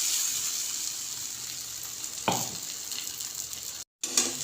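Paratha frying in a pan, a steady soft sizzle running throughout with a brief stir or scrape partway, then a short dropout before the sizzling resumes.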